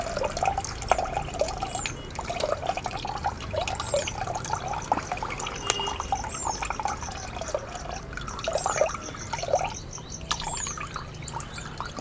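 Water is poured into a plant paste, giving soft, quiet trickling and scattered drips that come in small irregular bursts against a hushed background.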